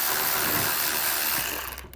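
An 8mm ratchet clicks steadily as it backs screws out of the plastic wheel-well liner on a 2022 Jeep, a close, continuous rapid pawl chatter that fades near the end.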